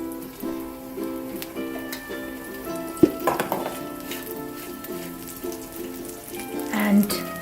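Garlic cloves hit hot oil in a pan that was used for dry fish, with a sharp clatter followed by a crackling sizzle that runs throughout beneath steady background music.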